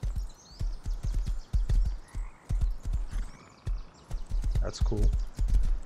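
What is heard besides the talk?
horses clip-clopping at a ranch in the video game Rust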